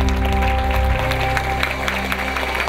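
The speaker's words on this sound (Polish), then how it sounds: "Duże gorące brawa bijemy!" An audience at a school end-of-year concert bursts into loud, dense applause, close and filling the whole short moment.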